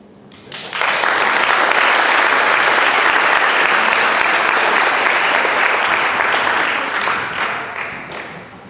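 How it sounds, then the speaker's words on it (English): Dense, sustained applause from an audience at an award ceremony, rising sharply after a brief pause, holding full and loud for several seconds, then tapering at the end. "we're going to do one more round of applause"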